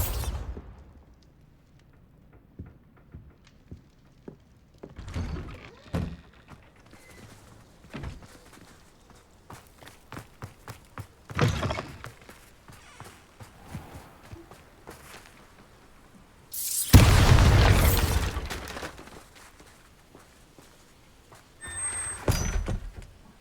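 A Bombarda blasting spell goes off in Hogwarts Legacy, a loud broadband burst standing out among scattered thuds, steps and clatter, with a second smaller blast near the end.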